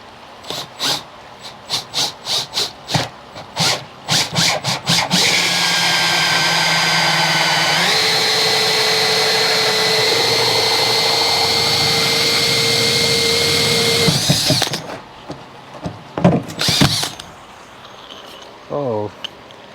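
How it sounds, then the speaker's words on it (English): A power drill with a hole saw cuts straight down, a loud sustained whine that shifts pitch midway and runs about ten seconds, framed by knocks and handling clatter. "So use that as your location point and then just drill straight down from there."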